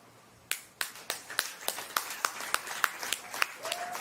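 Around a dozen crisp, evenly spaced claps at a steady tempo mark a round of a virtual poetry slam, fairly faint and close, with a quiet background and no talking.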